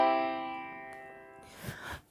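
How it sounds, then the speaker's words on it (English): A tonic triad chord sounds on a virtual piano, three notes struck together and left to ring softly as they fade, followed by faint shuffling noise. "A triad is when you have 3 notes and they all sound together."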